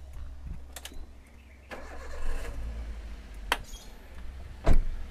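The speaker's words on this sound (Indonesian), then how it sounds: "lanjut kita hidupkan mesinnya" A 2008 Toyota Avanza G petrol engine cranks and catches at close range, a brief whirring start followed by a steady low idle, with a couple of sharp clunks, likely door or hood, punctuating the rumble.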